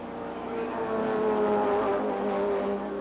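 Race cars at the 12 Hours of Sebring, a 1990 IMSA endurance race, roar past in a sustained engine drone that swells toward the middle and then eases, loud and continuous, with no voices over it.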